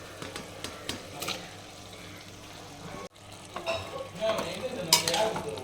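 Chicken for biryani is stirred and fried in a pan, giving a steady close sizzle with scraping spatula strokes that grow louder toward the end, with no talking.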